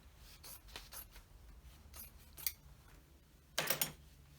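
Scissors cut a fabric circle in half for an upcycled puff cushion, giving several crisp snipping crunches at an irregular pace and then a louder cluster of cuts near the end, close and alone without talk.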